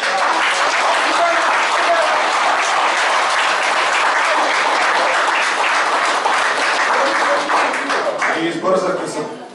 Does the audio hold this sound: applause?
yes